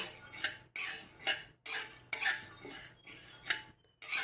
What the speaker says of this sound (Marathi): हलवत राहायचं सारखं सगळे धान्य आपल्याला हे सगळे बारीक गॅसवरती भाजून घ्यायचे